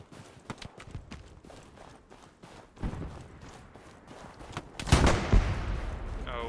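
Gunfire in the World War II shooter Hell Let Loose, a string of sharp cracks and shots at varying distances, some rapid and some spaced, building to a louder close burst near the end.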